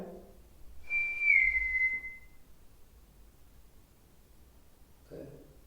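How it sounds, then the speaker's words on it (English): On a ghost hunting recording, a single drawn-out whistle sounds, sliding slightly downward in pitch for over a second. Brief faint voice sounds come just before and after it against quiet background hiss. "So you can hear the whistling?"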